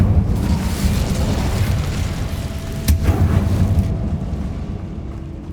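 Incendio fire spell blasts in the Hogwarts Legacy video game, a steady roaring, booming rumble of flame and explosion that stays loud throughout, with one brief sharp crack midway.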